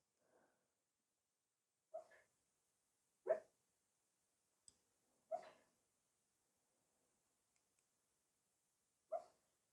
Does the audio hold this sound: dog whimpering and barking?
yes